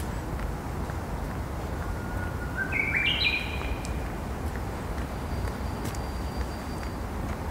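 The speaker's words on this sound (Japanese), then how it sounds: "どっかでウグイスが鳴いてますね。" A Japanese bush warbler sings once from somewhere off to the side of a Tokyo street at Akasaka's Sakurazaka, a short rising phrase followed by a thin held note, faint above a steady wash of city traffic.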